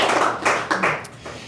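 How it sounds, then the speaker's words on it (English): An audience claps briefly at a community event announcing mental health and affordable housing investment, a short burst of several overlapping claps fading quickly. "So I think that's worth a clap as well."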